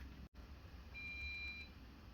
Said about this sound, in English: 2 beeps is 1 hour.